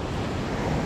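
Steady broadband wash of sea surf near a mangrove shoreline where driftwood piles up, loud and continuous with some wind noise on the microphone, no voices.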